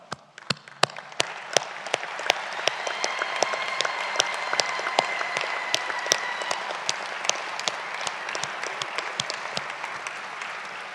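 Graduates at a university graduation ceremony applauding their families and friends, a long, even spread of many hands clapping with sharp individual claps standing out near the front, fading slightly at the end.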